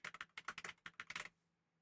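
A login password is typed on a computer keyboard in quick, close, crisp keystrokes, about fifteen clicks in two bursts, then quiet.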